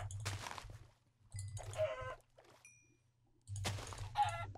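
Minecraft chicken clucks and squawks come in bursts with quiet gaps between them, over a low, steady electronic hum.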